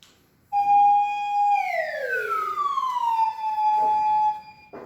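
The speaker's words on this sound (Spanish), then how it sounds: "del sonido más alto al sonido más bajo, el más agudo al más grave" A synthetic slide-whistle effect glides smoothly from a high tone down to a low one, loud and clean over near silence.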